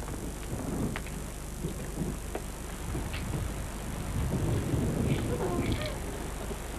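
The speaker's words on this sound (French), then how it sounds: "Il pleut." Steady rain falls outdoors, a constant broadband hiss of drops with faint scattered patter and low rumbles, holding at an even level throughout with no clear speech.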